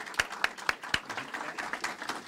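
A small audience at a talk claps in a sparse, uneven way, with several distinct sharp claps at first and then a thinner patter that stays fairly quiet.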